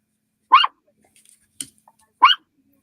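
A dog gives two short, sharp barks about two seconds apart, each with a brief yelping, howl-like rise. The barks sound close against a quiet room, with a faint click between them.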